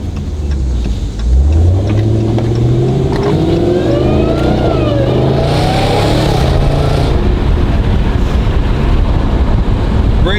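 A Dodge Hellcat V8 with a valved sport exhaust revs and rasps, rising and falling in pitch as it accelerates and downshifts, with constant wind rushing over the microphone.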